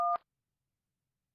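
A telephone keypad gives a single short dual-tone dialing beep, clean and close, followed by silence.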